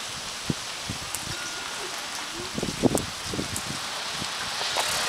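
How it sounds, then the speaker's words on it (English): Rain falling steadily near mountains on a cold day, a broad even hiss with scattered soft drop taps and rustles close by. "It's raining."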